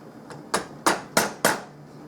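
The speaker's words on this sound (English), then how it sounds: "Working on the dado plane, chopping out the wedge pocket for the knicker." A chisel is struck to chop a wedge pocket into a wooden dado plane body, giving four sharp, evenly spaced mallet knocks after one lighter tap, close and crisp against quiet.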